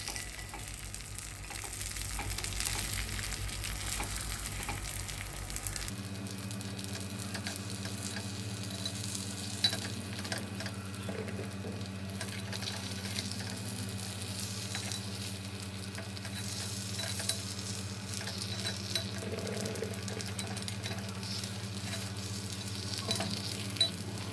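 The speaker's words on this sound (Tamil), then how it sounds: "அந்த முட்டை பணியாரத்தை பிரட்டி விட வேண்டியது தான்" Egg paniyaram frying in a pan while being flipped: a steady, continuous sizzle that lasts throughout, with faint scraping and tapping from turning the pieces and no voices.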